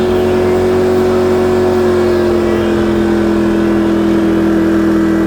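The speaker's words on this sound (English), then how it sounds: "Now it idles back down." A Yamaha EF2200is inverter generator settling from boost mode back to idle, a loud close steady engine hum whose pitch eases slightly lower as it runs, with no talking.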